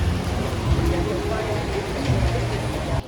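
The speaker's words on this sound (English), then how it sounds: "the rain didn't stop" Rain falls in Cambodia as a steady broad hiss with faint traffic rumble underneath, continuous and fairly close, with no clear voices.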